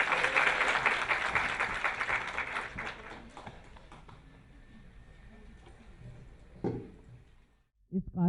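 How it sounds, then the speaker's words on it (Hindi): A seminar audience applauds to welcome a speaker (the seminar features a guest). Dense clapping is loud at first, then thins and fades over a few seconds, with talk and room noise continuing underneath. "एक बार तालियों से स्वागत करें।"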